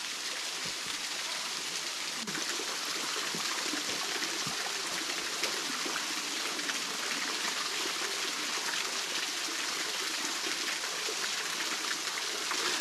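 Water pouring steadily at Beehive Falls in Grampians National Park, a dense, constant broadband rush with no pauses and no voices.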